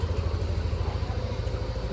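A motorcycle that had been submerged in floodwater idles while warming up, a steady low throbbing engine rumble heard close and alone for a couple of seconds.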